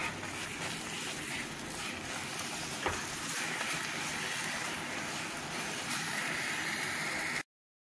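A bread and milk mixture with honey being stirred in a kadhai for brown bread barfi, giving a faint, continuous soft sizzle with scraping that runs steadily for over seven seconds, then stops abruptly.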